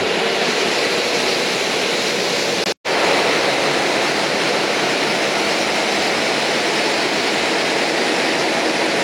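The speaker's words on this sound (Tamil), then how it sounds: "தண்ணி எப்படி வருது பாருங்க இந்த கேப்ல" Water rushes continuously through a gap with a loud, steady roar that briefly cuts out once and then resumes unchanged.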